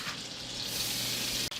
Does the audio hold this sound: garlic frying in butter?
yes